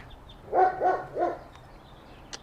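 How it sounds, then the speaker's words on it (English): A neighbor's dog barks three times in quick succession somewhere outside during a backyard tri-tip cookout, faint and distant, followed by quiet background ambience. "There's the neighbor's dog."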